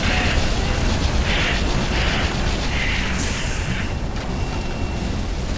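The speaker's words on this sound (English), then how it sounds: "An explosion just made us an exit." An explosion in the Halo 3 video game, played on Xbox 360 at Legendary difficulty, sounds amid dense, constant game noise with mechanical clanks and bursts, holding steady and loud throughout.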